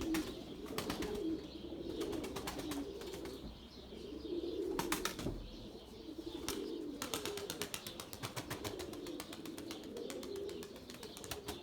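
Pigeons flying in a Turkish flock-flying session, with repeated bursts of wing flapping and faint cooing over steady outdoor ambience, fairly close and continuous throughout.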